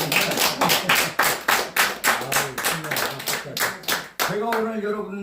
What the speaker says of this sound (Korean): 맞으면 박수 한번 쳐주세요